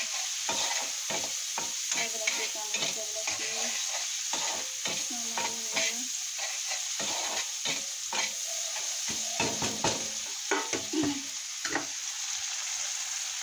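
Tomatoes cook in juice in a pan, stirred again and again, with a steady sizzle and repeated scraping and clinking strokes close up, no talking.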